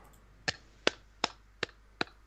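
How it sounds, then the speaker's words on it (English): Five slow, evenly spaced hand claps, crisp and close, standing alone against a faint background hum. "Do me a favour, clap a couple of times for me."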